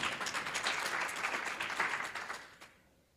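Audience applause at a tax credits public forum, dense clapping from a crowd welcoming a team onto the stage, steady and fairly loud before fading out near the end.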